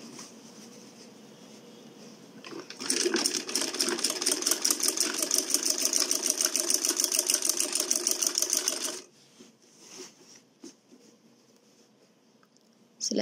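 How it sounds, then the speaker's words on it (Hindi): A sewing machine stitches a Dawoodi Bohra pardi rida along marked lines, running in a fast, even rapid-fire burst for about six seconds after a quiet start, then stopping, followed by a few soft clicks and handling sounds. "दूसरे हिस्से में से भी इसी तरह से हमें सिलाई लगानी है"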